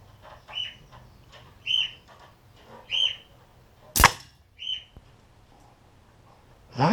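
Air rifle firing an H&N Baracuda pellet, one sharp loud crack near the middle, with birds chirping intermittently in the outdoor background.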